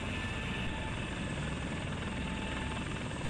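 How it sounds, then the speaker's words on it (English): A search-and-rescue helicopter in the FlightGear flight simulator gives a constant, close rotor-and-engine drone, steady and unbroken throughout with no talk. "if you've got a SAR helicopter and you're the second crewman"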